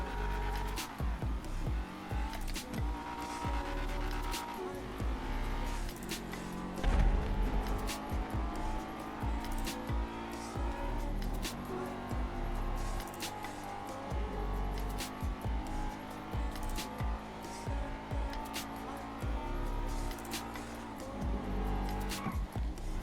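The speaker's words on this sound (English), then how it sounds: "I'm going to show you double clutching." In the racing video game Rapid GT, a drift car's engine revs and drops again and again as it is double clutched. Tire squeal and skidding run through the loud, continuous engine noise for over twenty seconds.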